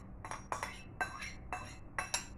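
Salad ingredients are tossed in a bowl: repeated clinking scrapes of a utensil against the dish in a steady rhythm, about two strokes per second, close and light.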